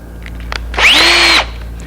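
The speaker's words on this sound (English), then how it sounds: "I simply drill it." A power drill bores a hole in a wood cupboard part at a woodworking bench, a short whining burst of about half a second rising and then holding steady before it stops, close and fairly loud over quiet room hum.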